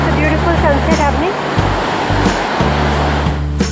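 Ocean surf rolling onto Hikkaduwa surfing beach in Sri Lanka at sunset, a continuous close wash of breaking waves with a low rumble and bits of faint voices mixed in.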